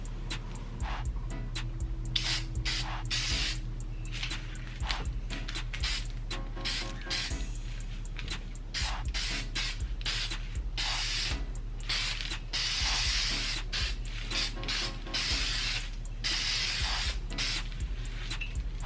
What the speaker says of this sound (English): I'm gonna go ahead and spray this on here.